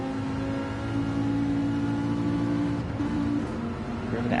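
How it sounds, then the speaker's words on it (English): A GT3 race car in a racing video game, running at Sardegna, holds a steady high engine drone as it revs through a corner, loud and continuous with a slight dip in pitch near the end. "Revving it out there through that corner to hold the nose in."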